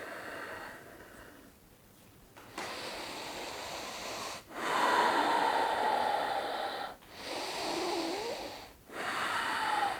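Slow, deep breaths exhaled through the mouth or nose, close and airy, in long drawn-out phases separated by brief pauses.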